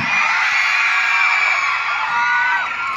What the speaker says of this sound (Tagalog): Gusto ko muna marinig ang hiyawan